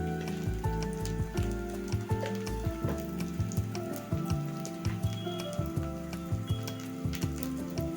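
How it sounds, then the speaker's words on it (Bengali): Ground coriander, cumin, sugar and garam masala frying in a pan for Chicken 65, a close crackling sizzle broken by rhythmic stirring scrapes, with a steady musical tone underneath. "মশলাটা একটু কষে নেবো ভালোভাবে"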